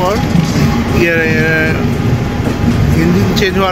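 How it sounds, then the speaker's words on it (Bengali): The Kamrup Express rolls along behind a local diesel engine, a loud, constant rumble of moving train with faint whining tones drifting over it. "তারপরে আমাদের ট্রেন আবার চলতে শুরু করলো ডিব্রুগড়ের উদ্দেশ্যে"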